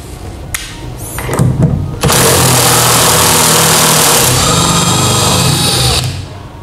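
Makita TW004G 40V Max cordless impact wrench driving a screw through a wood board into a tabletop: a few short bursts, then about four seconds of loud, continuous hammering whir that stops abruptly.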